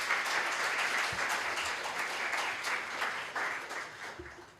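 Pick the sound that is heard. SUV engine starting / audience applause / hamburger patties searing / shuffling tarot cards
audience applause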